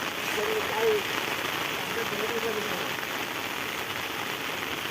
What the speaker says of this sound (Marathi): पाऊस पण आला मित्रांनो, भरपूर पाऊस आला